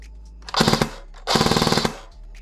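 An airsoft FN P90 with a stock motor fires two loud, close full-auto bursts, each a rapid mechanical rattle of about a dozen shots separated by a short pause.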